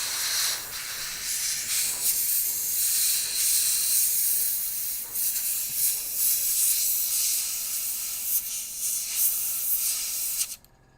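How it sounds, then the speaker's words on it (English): An airbrush sprays paint onto a model with a continuous close hiss that holds steady for about ten seconds before cutting off abruptly. "Not a dry brush, an airbrush."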